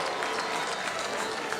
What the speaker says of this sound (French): Et tout le monde qui applaudit cette performance